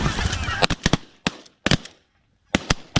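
Sharp, loud shotgun blasts ring out at geese in several quick clusters with pauses between them. A goose honks at the start.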